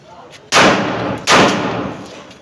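Two loud, close pistol shots are fired in a test, spaced a little under a second apart, each a sharp crack followed by a long decaying roar.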